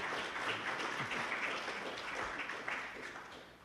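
An audience at a security conference talk claps, a faint, distant, steady patter of applause that lingers briefly.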